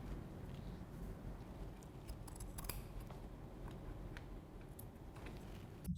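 Scissors snip fabric rectangularly one inch above the neckline of a draped back bodice, a few faint close cuts against a low steady background hum.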